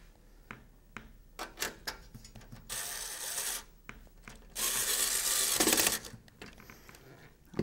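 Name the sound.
screwing in a screw on a computer case side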